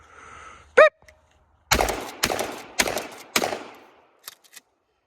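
Shotgun fired on an FBI qualification course: a short timer beep, then four loud, close blasts at uneven intervals, followed by a few faint clicks.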